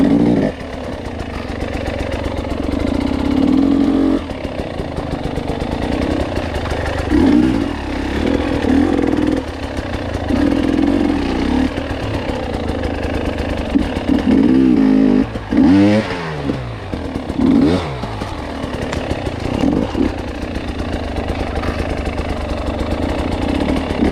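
A motorcycle engine runs steadily through a tunnel, idling and revving at moderate, echoing loudness with brief throttle changes midway; no one speaks.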